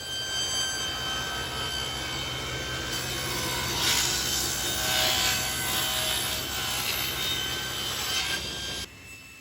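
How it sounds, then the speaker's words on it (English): A rebate being cut along wooden stiles and rails for a dresser, a continuous close, loud machining whine and rasp holding steady for several seconds before cutting off near the end. "I cut a rebate in all the pieces for that panel to fix into"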